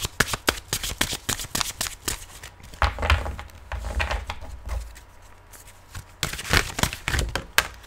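Tarot cards are shuffled by hand in quick riffling bursts of sharp papery slaps and flutters, with short pauses between rounds, close and crisp with no talk.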